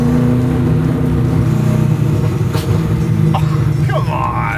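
Roadster Shop's Road Rage Camaro, with a 750 hp naturally aspirated engine, rumbles loud and close in a deep, steady drone that swells slightly, with a brief voice near the end.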